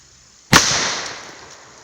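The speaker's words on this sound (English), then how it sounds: "here we go. First shot." Airforce Texan .457 big-bore air rifle fired once at a pumpkin, a single sharp, loud crack followed by a brief fading ring.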